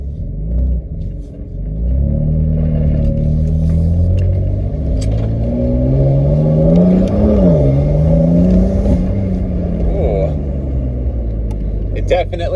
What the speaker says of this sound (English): gonna take it for a drive for the first time with the downpipes.